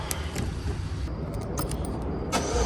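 Cars pull out of a restaurant parking lot, giving a steady, close engine and tyre rumble with a few sharp clicks and rattles over it, and no talking.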